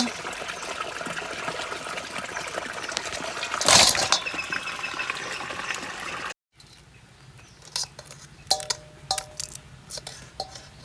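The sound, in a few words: washing live crab in water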